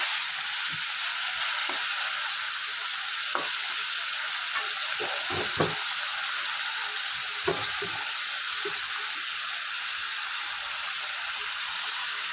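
Vegetables for a tangy fish curry sauté in a hot pan, giving a constant bright sizzling hiss with occasional soft scrapes and taps from stirring throughout.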